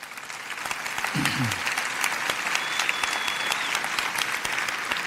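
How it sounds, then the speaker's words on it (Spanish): A church congregation applauds in sustained, dense clapping at a Spanish-language sermon, steady and full throughout, with faint speech mixed in. "Dale un aplauso a Dios."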